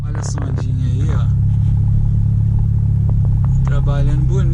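Car driving in traffic with the air conditioning switched on: a steady, close, low engine and blower rumble runs the whole time beneath someone talking.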